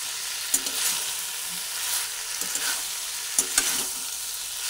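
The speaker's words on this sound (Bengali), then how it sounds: "সব দিয়ে ভালোভাবে সুন্দরভাবে আবার নাড়াচাড়া করে নিচ্ছি।" Fried papaya pieces being stirred in a pan of hot oil for a vegetarian chal pepe dish, giving a steady sizzle with occasional spatula knocks and scrapes, near and free of speech.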